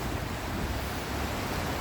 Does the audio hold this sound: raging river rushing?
yes